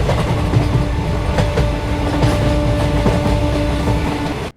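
A train rolls steadily along the rails with a continuous rumbling roar and faint rhythmic clatter of wheels, loud and close throughout as if heard from inside a carriage, with no voices.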